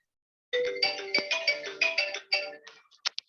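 A phone ringtone plays through a remote participant's speaker during a personal computing meeting, a short melodic tone pattern coming in faintly and repeating briefly.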